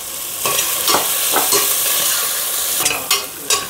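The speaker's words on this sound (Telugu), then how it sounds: "ఆనియన్స్ బాగా రెడ్గా ఫ్రై అవ్వాలంటే కొంచెం సాల్ట్ వేసుకోండి," Onions sizzle in oil for egg biryani, salted to brown faster, while a spoon stirs and scrapes the pan in several short strokes over a steady frying hiss.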